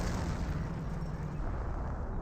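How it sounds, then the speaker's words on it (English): Explosions from an M2 barrage in the Company of Heroes battle game, heard as a continuous, dense low rumble of blasts that rolls on steadily without a break. "I do hear an M2 barrage somewhere"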